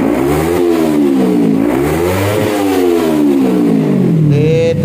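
Kawasaki Ninja 250 motorcycle fitted with a new exhaust revving hard up to 13,000 RPM, loud and close, the engine pitch rising and falling in repeated sweeps.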